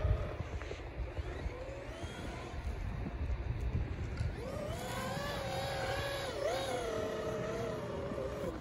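A Traxxas X-Maxx RC car straining through deep snow, its electric motor whining up and down in rising and falling pitch sweeps under wind noise, fairly faint and distant.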